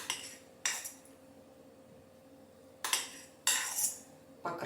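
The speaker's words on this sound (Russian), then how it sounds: "с помощью столовой ложки аккуратненько распределяю гус по всей клубнике" Tablespoon clinking against a dish while spreading glaze over fresh strawberries on a cake, a few sharp metallic taps and scrapes spaced apart in an otherwise quiet kitchen.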